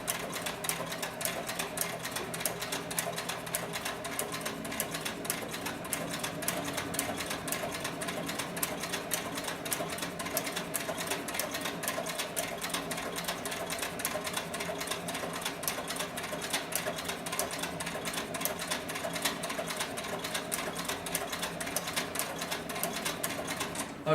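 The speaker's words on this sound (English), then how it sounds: "the speed of the sewing machine can pick up" A Cowboy CB4500 extra-heavy-duty sewing machine stitches steadily and close by, its rapid mechanical clatter holding a fast, even rhythm throughout as the pedal is pressed further down.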